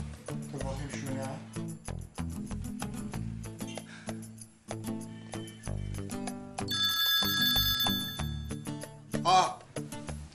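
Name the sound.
mobile phone ringing, left behind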